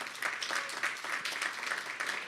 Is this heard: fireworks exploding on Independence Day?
no